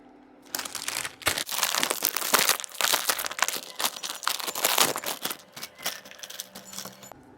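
A plastic packet of Korean instant noodles is handled close up, giving dense, uneven bursts of crinkling and rustling for several seconds with no speech.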